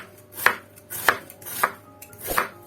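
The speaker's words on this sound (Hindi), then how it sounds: "और इस प्याज को जो है मैं बहुत बारीक भी नहीं काटूंगी" A knife chops through onion on a board for pakoras: four crisp, evenly spaced cuts about half a second apart, close and moderately loud, each a sharp thud, with no talking.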